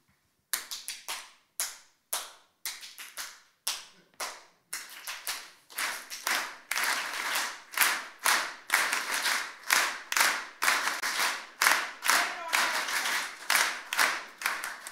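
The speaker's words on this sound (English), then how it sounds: "I want you to give yourselves a Class A clap" A group clapping in unison, starting with a few scattered sharp claps, then a steady series of loud rhythmic claps that build into a dense, quick, patterned clapping routine, close and clear, without talk.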